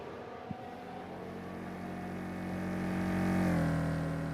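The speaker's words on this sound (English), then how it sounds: "Oh, that car does not sound healthy." An F1 car engine in F1 Manager 24 sounds rough and unhealthy: a buzzing harmonic drone that gradually grows louder and rises in pitch, then wavers and drops near the end, with no voices.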